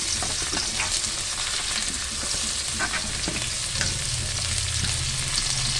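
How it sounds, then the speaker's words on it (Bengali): Chopped onions tossed into hot oil crackle and fry in a steady, close sizzle, with faint clinks of stirring breaking through now and then, all without any talking. "তেল দিয়ে দিয়েছি আর এবারে দিয়ে দিচ্ছি পেঁয়াজ কুচি"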